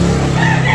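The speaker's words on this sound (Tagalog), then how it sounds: "Wapo manok." A red rooster over a year old, a gamefowl offered for sale at a backyard fowl market in Carbon, Cebu, gives a brief, loud, sustained crow close by. No voices are heard.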